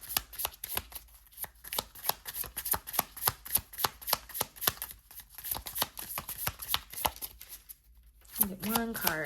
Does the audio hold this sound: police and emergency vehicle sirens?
no